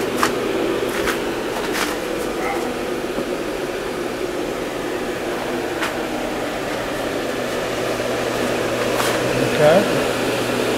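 Lube and hydraulic pumps run on an Okuma GA26T grinder, giving a steady, even mechanical hum with a low drone throughout and a few faint clicks over it.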